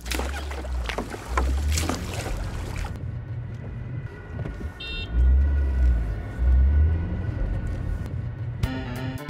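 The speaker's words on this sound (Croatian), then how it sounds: "preko velike rijeke odveslali u grad" Rowing a boat across a big river as a radio sound effect: steady low water and hull rumble with wind-like noise, swelling in two louder surges mid-way, with brief higher knocks near the end.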